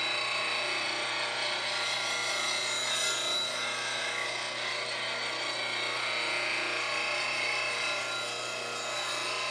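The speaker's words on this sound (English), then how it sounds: "With this 180 grit wheel, which is what I use for most of my fine sharpening." A spindle roughing gouge is ground against a 180 grit grinding wheel, a steady close whirring hum with a continuous gritty rasp running the whole time, no talking.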